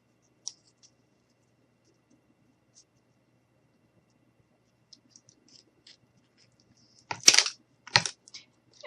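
Shears snip through wooden craft sticks in two or three sharp, close cracks near the end, after a long near-silent stretch with a few faint clicks.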